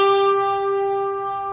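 An electric guitar sustains a double-stop without a string bend, two steady, clear pitches ringing out close and alone, then slowly fading over a moment and a half.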